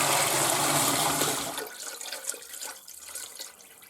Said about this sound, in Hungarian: 28 literig feltöltjük hideg vízzel.